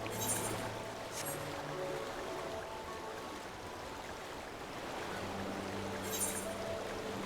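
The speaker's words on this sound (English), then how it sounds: "But I'm gonna sprint in the water." Final Fantasy XIV character sprinting through water: a continuous soft splashing and watery rush with a few brighter splash accents near the start and end, faint and without talk.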